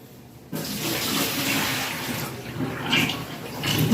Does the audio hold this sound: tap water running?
yes